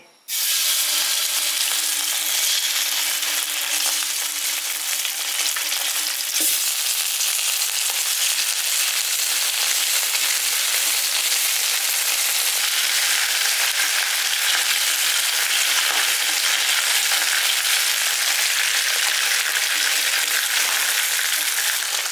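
Fish bones fry in a pan as the first step of tomato fish, producing a loud, dense and continuous hiss-and-crackle sizzle close by, with no talk over it.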